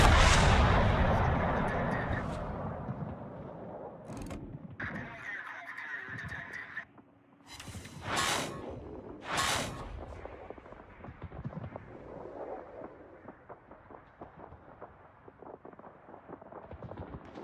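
Heavy naval gunfire in World of Warships during a battle near a Des Moines and a Montana, with loud booming salvos and rumbling blasts, a few sharp bursts standing out over continuous low battle noise.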